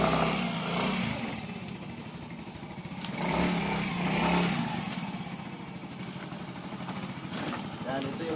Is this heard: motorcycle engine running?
yes